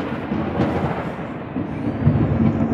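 A deep, rumbling roll of thunder from an approaching storm, a low continuous grumble swelling and fading for several seconds, fairly loud with no voices over it.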